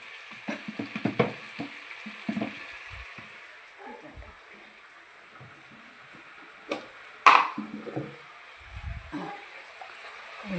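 Vegetables sizzle softly in a home cooking pan as water is added so they can boil, with sugar stirred in just before; low frying hiss runs under scattered stirring clatter, with one sharp burst midway.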